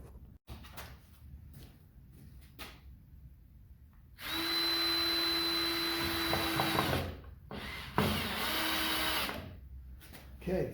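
A power drill driving long screws down through boards for a new dog-door ramp, one sustained whirring run of several seconds with a shorter burst after, plus brief scrapes and knocks between; faint talk is present.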